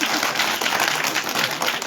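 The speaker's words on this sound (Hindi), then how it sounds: "उनके स्वागत के लिए जोरदार ताली हो जाए।" Children at a school Independence Day event clap loudly together to welcome guests and parents, a dense, sustained burst of applause throughout.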